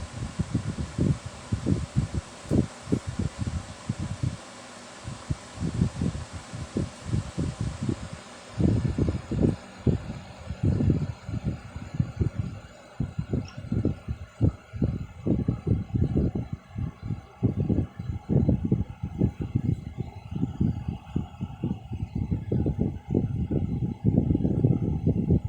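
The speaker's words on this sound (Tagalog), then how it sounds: "Ang lakas ng hangin ng electric fan." Rough, gusty rushing air buffeting close to the microphone, pulsing irregularly with a steady mechanical whir beneath, like a fan blowing straight at it.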